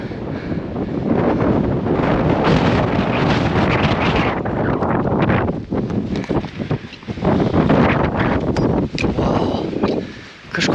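Strong Himalayan wind buffets the microphone in loud, continuous roaring gusts that dip briefly and then surge back.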